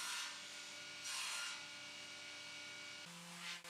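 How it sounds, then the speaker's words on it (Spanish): Wooden crib slats, four at a time, are hand-sanded on a flat surface, giving three separate rasping strokes over a faint steady hum, with no talking. "lijar 4 tablillas a la vez sobre una superficie plana aceleró un poco el proceso"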